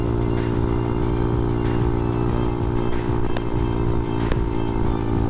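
An ADV Moto 190R motorcycle cruises through turns at about 40 mph, its engine a loud, steady droning hum with persistent low harmonics and a few brief ticks and clicks, heard up close throughout.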